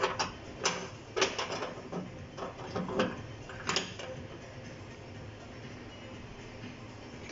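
Pan support on an Ariston 90 cm built-in gas hob being rotated by hand, giving several short metallic clicks and scrapes close by, then quiet.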